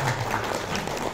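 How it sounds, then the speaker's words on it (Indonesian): Steady applause fills a hotel function room at an Indonesian fertilizer business presentation, with an even, moderately loud crowd clapping and a faint voice underneath. "boleh tepuk tangan?"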